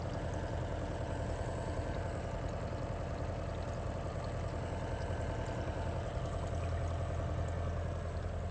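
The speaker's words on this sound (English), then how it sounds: "This is the noise of the pump." A quiet RV water pump runs with the shower on, giving a steady, faint mechanical hum with a constant high whine and no pauses.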